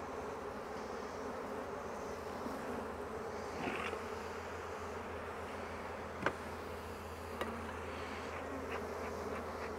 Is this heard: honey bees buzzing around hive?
yes